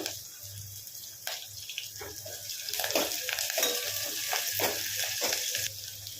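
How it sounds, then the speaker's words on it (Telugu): Curry leaves, asafoetida and spices sizzling and being stirred in hot oil for tomato rasam, a steady close frying hiss with scraping strokes of a spoon, no voices. "ఒక 2 నిమిషాలు వేయించుకోండి."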